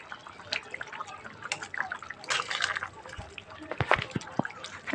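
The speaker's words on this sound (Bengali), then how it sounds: "এখন একটু ভালো করে ফুটিয়ে নিব।" Bata fish curry bubbles in a pan, soft liquid plops and drips scattered irregularly at close range, fairly quiet, with faint background noise.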